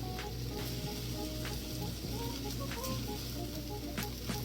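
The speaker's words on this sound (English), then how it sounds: "then add in my onion. Now I'm going to saute this for about 2 minutes" Onion sautéing in oil in a pan hisses with a steady, fairly quiet sizzle, plus occasional light stirring clicks and a low background hum throughout.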